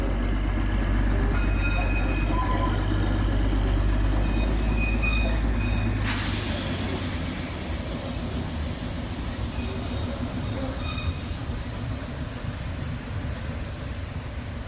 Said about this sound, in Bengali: ওই বেরিয়ে গেল টয় ট্রেন, পার্কের ঠিক গা ঘেঁষে বেরিয়ে গেল, শিলিগুড়ির দিকে যাচ্ছে